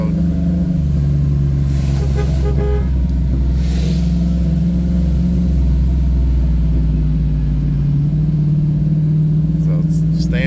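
A 2006 Trailblazer SS engine drones steadily in first gear while driving, a loud low hum with a sustained tone that holds through the whole stretch, with a voice talking over it.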